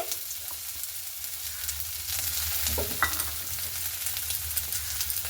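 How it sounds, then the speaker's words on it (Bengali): Continuous sizzling of chopped onions frying in oil, steady and fairly loud, with occasional soft scraping of stirring. "তো পেঁয়াজটা কিন্তু লাল লাল করে ভেজে নিতে হবে"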